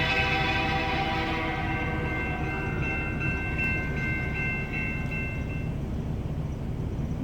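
A train passing at a railroad crossing, a steady loud rumble of wheels and cars with a sustained horn blast over it that fades partway through.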